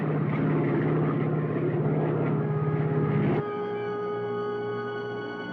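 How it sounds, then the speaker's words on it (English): A plane engine drones loud and steady, with a pulsing propeller-like beat, as the aircraft loses altitude. Partway through it shifts to a smoother tonal hum. "Janice, we're losing altitude"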